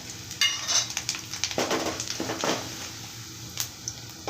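Tomato pickle frying in a pan, with soft sizzling broken by a run of stirring scrapes and light clinks from a spoon against the pan, fairly quiet and close.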